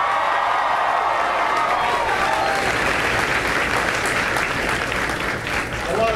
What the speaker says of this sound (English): Give Tevyn a big round of applause